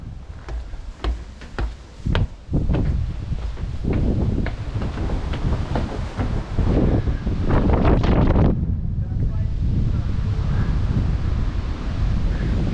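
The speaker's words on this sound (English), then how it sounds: "It is quite windy, so I doubt that you will hear me" Strong wind at a hilltop lookout tower buffets the microphone in loud, roaring gusts, with rumbling blasts and a steady rushing noise throughout.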